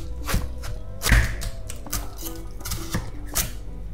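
A knife cuts into a whole watermelon in Chiang Mai, Thailand, producing a series of close, dull thumps and crunchy cracks as the rind splits, with handling noise between the cuts.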